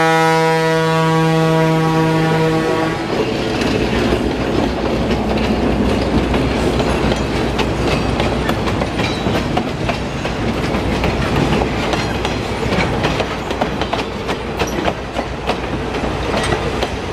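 A train horn sounds loudly for a few seconds, then a heavy train rumbles and clatters steadily past nearby on the tracks during a Civil War re-enactment excursion, with no talking.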